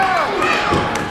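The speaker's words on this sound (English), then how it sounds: "The crowd getting behind George LaFleur here in this Maryland title match." Wrestling crowd at a Maryland title match roaring and cheering in a continuous loud wash of voices, with a few thuds and shouts rising out of the noise.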